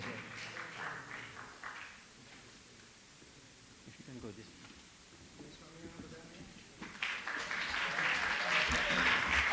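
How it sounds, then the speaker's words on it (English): Audience applause at a silver jubilee gala in a temple auditorium, a burst of clapping that fades to quiet then swells again louder and sustained toward the end, with speech nearby. "Give him a big round of applause."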